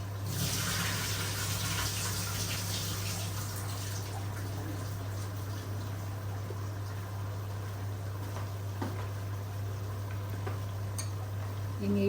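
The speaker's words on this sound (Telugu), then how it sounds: "ఇప్పుడు ఈ నానబెట్టిన బియ్యం ఈ నీళ్ళని వంపేస్తానండి." Water drained off soaked rice in a kitchen, a continuous pouring and running sound with faint clinks of a pot, over a steady low hum and without speech.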